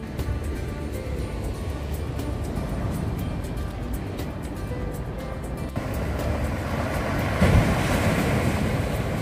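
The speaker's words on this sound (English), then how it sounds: "Hopefully I won't get drenched with a wave behind me." Sea waves break and wash along the shingle and sand shore beside the promenade at Cromer, Norfolk, in October, a steady rushing roar mixed with wind buffeting the microphone, swelling louder in the last few seconds.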